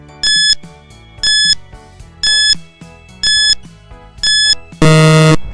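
Quiz countdown timer sounding five evenly spaced loud electronic beeps about a second apart, then a longer, harsher buzz-like tone marking time up, with no voices.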